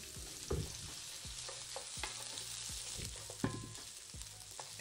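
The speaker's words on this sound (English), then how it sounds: "let's start off by browning our pound of kielbasa" A pound of kielbasa sausage browns in a pot, a soft steady sizzle broken by several close clunks and scrapes of stirring, with no talking.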